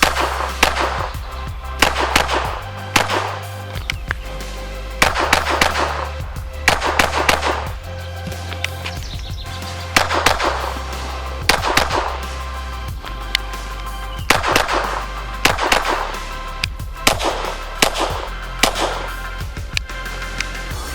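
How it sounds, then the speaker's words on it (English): A SIG Sauer P322 pistol fires repeatedly outdoors during practice, strings of close, loud cracks in quick clusters separated by short pauses, over a low engine-like drone, with no speech. "I'm just out shooting."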